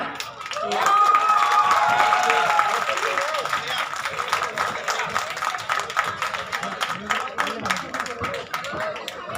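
An audience of girls seated in a pandal at a university youth festival claps, a loud sustained burst of applause building quickly and thinning into scattered claps, with voices and a faint tone mixed in.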